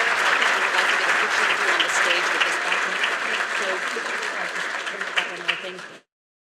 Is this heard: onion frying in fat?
no